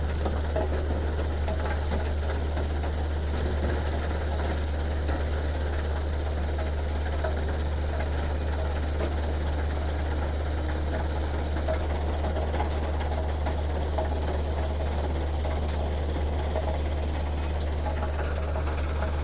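A tractor engine runs continuously while soil is loaded, a steady low droning hum with constant mechanical rattle and vibration, close and unbroken for the full length, with no talking.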